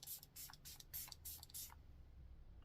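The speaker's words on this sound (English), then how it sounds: "So I'm just going to test that it sprays." Facial setting spray misted from a pump bottle: about six quick, soft hissing spritzes in a brisk uneven rhythm, close and fairly quiet, then silence.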